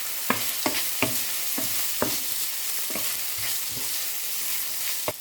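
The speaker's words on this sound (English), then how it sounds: "we can mix the minced pork while stirring" Minced pork stirred into sautéed garlic and onion in a pan gives a steady hiss of frying, broken by about eight sharp scrapes and clinks of the spoon against the pan at uneven intervals. No one speaks.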